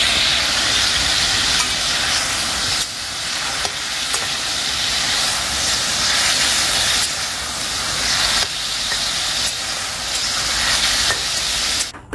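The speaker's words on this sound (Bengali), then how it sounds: "আর একটু জাল দিয়ে ঝোলটাকে কমিয়ে নেব" A soybean curry simmers over the heat while its gravy reduces, giving a steady, fairly loud hiss and bubbling sizzle that runs unbroken from start to finish with no voices.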